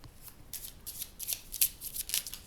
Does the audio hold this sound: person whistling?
no